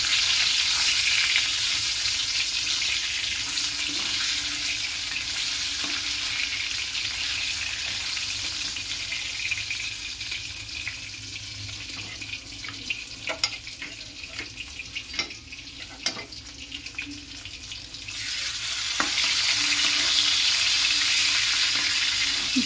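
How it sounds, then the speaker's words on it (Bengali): Fish fries in hot oil in a wok, giving a continuous hissing sizzle with scattered clinks and scrapes in the middle, then swelling louder again toward the end. "আমি এরকম করে মাছটা ছেড়ে দিয়ে তেলের মধ্যে এরকম ঘুরিয়ে নিই"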